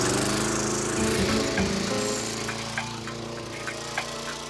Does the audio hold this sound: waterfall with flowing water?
no